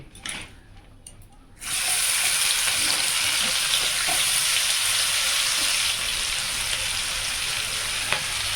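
Chopped onion tipped into a hot pan with egg: quiet at first, then a sudden loud, steady sizzle of frying that holds strong to the end.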